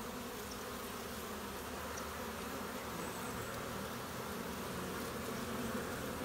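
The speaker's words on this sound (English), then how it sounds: "There's a lot of bees coming in." Honey bees fly into their hive during a late-February check-up, a continuous low buzzing drone from many insects at close range, faint but steady and without any talking.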